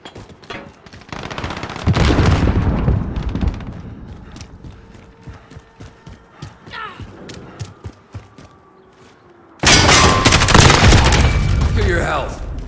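Call of Duty: Modern Warfare (2019) multiplayer firefight on a Hardpoint match, with rapid gunshots and bursts of automatic fire, then a loud grenade blast near the end followed by rumbling debris, with mechanical weapon-handling clicks between.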